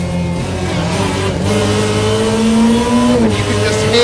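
Supercharged Group B rally car at speed, a loud close engine roar with rising and falling pitch as it accelerates and shifts, a supercharger whine layered over the exhaust, filling the whole stretch.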